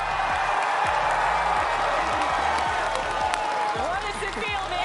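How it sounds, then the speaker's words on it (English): A Fortnite FNCS esports tournament crowd cheers and applauds in a loud, sustained roar, dense and continuous throughout, with voices and commentary mixed in. "the audience went absolutely insane"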